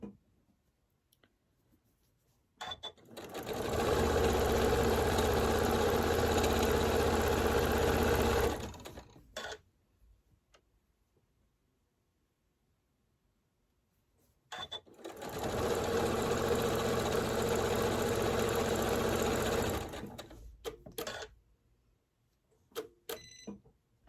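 A sewing machine stitching a pumpkin patch table runner hums in two long, steady runs of about six seconds each, with quiet pauses and faint clicks between them.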